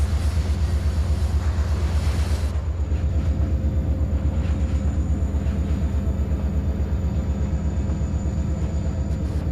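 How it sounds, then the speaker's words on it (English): Train running in Trainz Railroad Simulator 2019 on an elevated curve, a loud steady low rumble with rhythmic wheel and rail clatter that holds throughout, a brief brighter hiss at the start. "Trying to keep the train from being a runaway."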